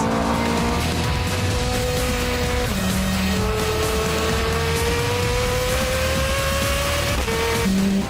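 A Ferrari F430 Scuderia in race mode drives a timed lap, its engine loud and close, climbing steadily in pitch through the gears with sharp drops at each upshift.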